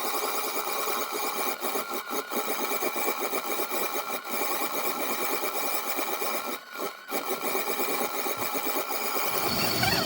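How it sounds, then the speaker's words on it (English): A MasBros electric yarn winder's small motor whirs steadily as it winds yarn, a continuous buzzing drone with a couple of brief dips, sounding strained under load. "It does sound like the machine's working a little bit harder to wind this"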